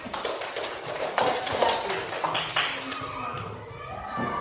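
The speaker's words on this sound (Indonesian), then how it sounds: "Oke, tepuk tangan." A small classroom group gives a short, scattered round of hand clapping during a school lesson, with irregular sharp claps early on that thin out as a teacher's voice carries over them.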